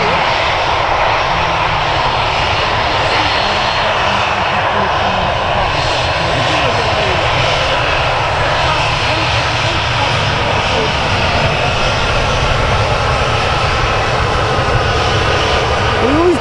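A KLM aircraft at Manchester Airport runs its engines with a loud, close, sustained roar and whine that never lets up, while voices talk over it.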